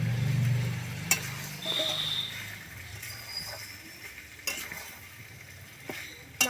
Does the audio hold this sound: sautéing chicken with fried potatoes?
yes